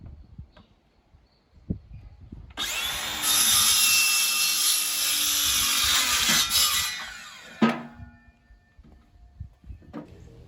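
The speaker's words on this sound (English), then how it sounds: "use my little battery-powered Makita saw and a square so that I can cut straight" A small battery-powered Makita circular saw cuts through a wooden board for a raised garden bed, a loud, steady high-pitched whine lasting several seconds, then winding down, with a few light knocks before and after.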